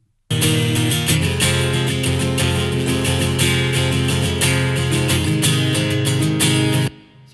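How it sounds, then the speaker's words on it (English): Acoustic guitar picking through a Springbox reverb, the reverb mostly adding space at the tail of the notes; a loud, dense, steady stretch of strummed and picked chords for about seven seconds before cutting off, with no talking. "the Springbox reverb that really just adds like the reverb at the end"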